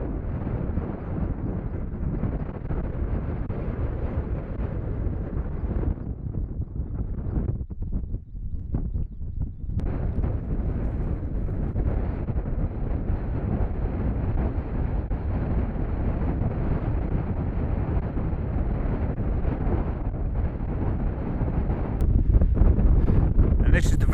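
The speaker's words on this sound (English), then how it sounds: "This is the very breezy summit of Walton Scar" Steady, roaring wind buffets the microphone on a breezy hill summit, continuous and loud throughout with slight gusts and a brief dip partway through.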